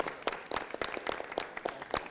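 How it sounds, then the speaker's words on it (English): Applause from a small audience at a high school track and field signing ceremony, moderately faint, with scattered individual claps rather than a dense roar. "So let's get a round of applause, guys, for all these great accomplishments that he did."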